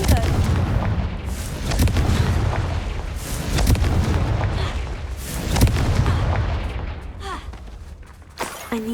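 Confringo fire spells blast repeatedly in Hogwarts Legacy, a dense run of booming bursts and crackling impacts over a rumbling game soundscape that thins toward the end with scattered pops.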